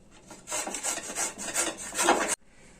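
Peeled zucchini rasped against a metal grater for fritters, a steady close scraping run of quick back-and-forth strokes lasting about two seconds before stopping abruptly.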